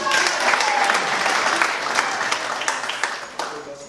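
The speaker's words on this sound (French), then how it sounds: "applaudissez donc pour Ahmed" Wedding guests clap loudly for Ahmed, a thick burst of crowd applause with scattered voices underneath throughout.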